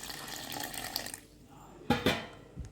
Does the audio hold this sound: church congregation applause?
no